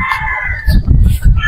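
A Boston Roundhead straight comb broodstag rooster crows once, loud and close, a drawn-out cock-a-doodle-doo with clucking and scuffing underneath.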